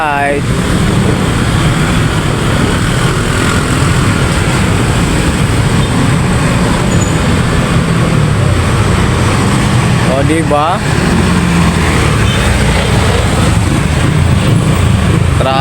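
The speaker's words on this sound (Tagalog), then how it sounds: "Traffic na dito pag ganito oras." Dense road traffic on Amang Rodriguez in Manggahan, Pasig, gives a steady loud roar of engines and idling vehicles heard from a motorbike, with a horn-like tone briefly rising near the start and middle and a voice mixed in.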